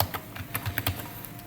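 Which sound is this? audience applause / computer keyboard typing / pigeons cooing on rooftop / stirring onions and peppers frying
computer keyboard typing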